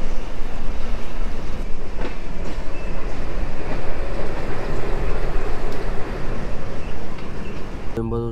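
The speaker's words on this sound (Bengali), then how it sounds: "তো আমাদের কোয়েম্বাতুর রেলওয়ে স্টেশন থেকে ট্রেন ছেড়ে দিল," A passenger train pulling out of Coimbatore railway station in India, heard as a loud, steady rumble and rattle of carriages rolling along the rails, continuous throughout with a brief sharp click near the end.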